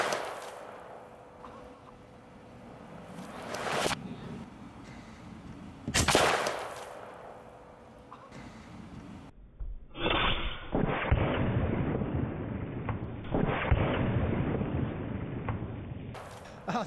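Shots from an AEA Element MAX .457 PCP air rifle, a big-bore deer-hunting gun, firing at a steel target: a few sharp cracks spaced seconds apart, then a loud ringing clatter as the target spins.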